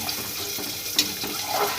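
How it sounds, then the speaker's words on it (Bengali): Water splashes and gurgles into egg curry in a hot, sizzling pan, with a brief clatter midway; nearby and fairly steady. "এবার আমি পরিমাণ মতো জল দিয়ে দেবো"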